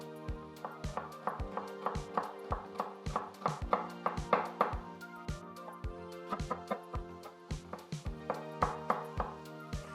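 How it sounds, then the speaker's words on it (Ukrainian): Parsley root and celery stalk chopped with a knife on a board, a steady run of sharp, close knocks repeating at a brisk, fairly even rhythm over a kitchen background hum, no talking. "ми подрібним корінь петрушки і стебло сельдерея"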